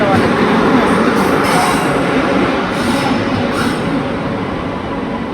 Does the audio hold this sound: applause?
no